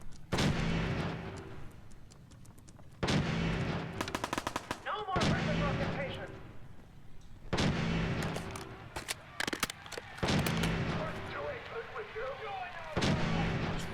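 Weapon fire in the modded video game Fallout 4, loud bursts of rapid gunshots and heavy blasts in repeated volleys with brief pauses between them, dense and close throughout.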